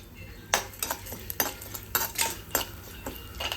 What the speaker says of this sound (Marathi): तर आता इथे मी सूर्यफुलाच्या बिया घेतल्या त्या पण आता आपण तळून घेऊया